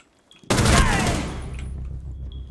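A sudden, loud burst of rapid gunfire in Rainbow Six Siege breaks out after near silence and rattles on before it gradually trails off.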